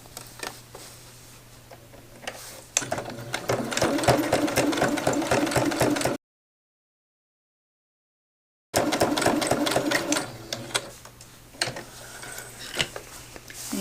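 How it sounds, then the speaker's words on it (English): Sewing machine stitching a second decorative row along jeans pockets, running in fast rhythmic bursts of needle clatter up close, interrupted by a sudden gap of silence midway. "I'm going to come in for the second row of stitching to add that detail"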